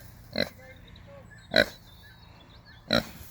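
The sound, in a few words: pigs grunting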